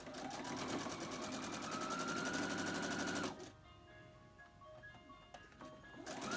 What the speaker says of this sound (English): sew this last row together